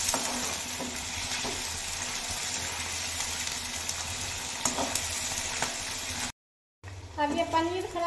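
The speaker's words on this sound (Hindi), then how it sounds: "पहले पनीर को फ्राई कर लेंगे।" Thinly sliced paneer fries in a pan with a loud, continuous hissing sizzle, broken by a brief silence before a voice speaks over it at the end.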